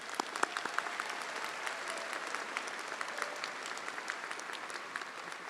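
Sustained applause from a large audience greeting graduates at a university commencement ceremony, dense steady clapping with no voices on top.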